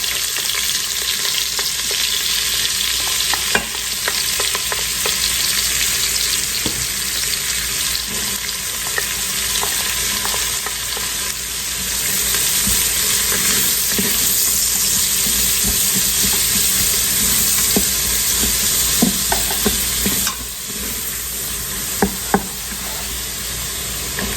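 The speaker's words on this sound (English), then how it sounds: "we're going to go ahead and saute our holy trinity" Green peppers, onion, celery and garlic sauteing in an Instant Pot, giving a loud, continuous sizzle close by, with occasional clicks and scrapes from stirring.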